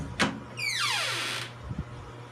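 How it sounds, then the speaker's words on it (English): A door creaking open as a drawn-out squeal that bends downward in pitch, preceded by a brief knock and followed by a couple of faint taps, over a low steady hum. "A door creaking open."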